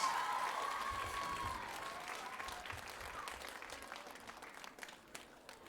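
A concert audience at Rhapsody Rotorua 2019 applauds, dense clapping that gradually thins and fades, with a faint whistle or ringing tone near the start and scattered claps trailing at the end.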